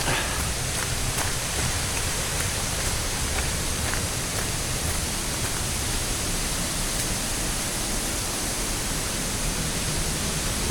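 A waterfall seen from a bridge roars as a steady, dense rush of water, loud and unbroken throughout with no voices.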